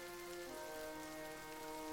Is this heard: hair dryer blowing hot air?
no